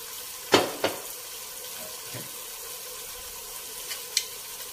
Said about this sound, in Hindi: हम इसे अच्छी तरह भून लेंगे।